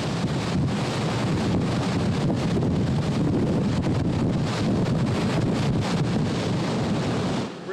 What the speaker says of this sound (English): let's just listen to the wind.